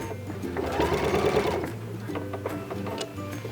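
A sewing machine stitching a square across tote bag straps, running steadily and close with a whirring, rapid needle rhythm that briefly slows and restarts.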